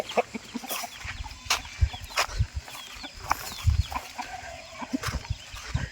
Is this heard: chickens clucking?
yes